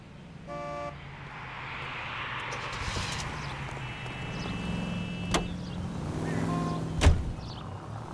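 A car driven in the video game L.A. Noire, its engine humming steadily at moderate distance, with a brief beep early and a couple of sharp clacks or bumps later.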